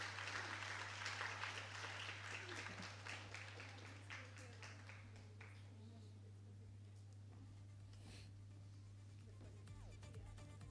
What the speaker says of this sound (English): Can we please all welcome her on stage with a huge round of applause?